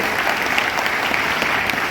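An audience at a Vestige leadership event applauds in a dense, continuous wash of clapping, steady and fairly loud throughout with no voices breaking through.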